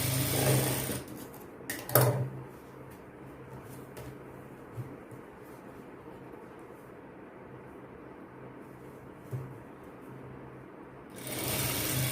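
A sewing machine runs steadily, stitching seams on an open-back blouse, its motor a continuous close whir with a few brief louder knocks near the start before it stops abruptly near the end; no voices.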